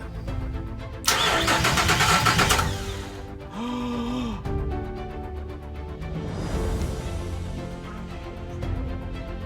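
A starter motor on a Nissan Xterra race truck whirs and cranks loudly in a short burst, then the engine turns over and churns unevenly, close to the listener.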